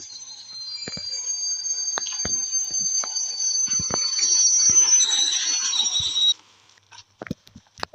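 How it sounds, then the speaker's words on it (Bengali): A train pulling in within the mobile driving game India Bike Driving 3D, a steady synthetic rumble with high whining tones for several seconds that cuts off abruptly, followed by a few sharp clicks. "তো ট্রেন চলে আসছে, তো সেই ট্রেন আসার টুকু আমরা অপেক্ষা করি।"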